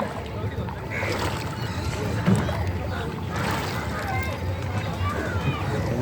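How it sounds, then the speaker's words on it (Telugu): A boat moves across Phewa Lake with a steady rumbling drone and faint sloshing, while people talk over it. "బోటు షికారు"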